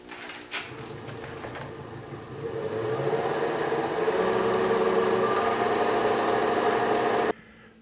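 A wood lathe turns an apple wood mallet blank at about 1200 RPM, giving a steady, close mechanical hum with a thin high whine that runs evenly and then cuts off abruptly near the end.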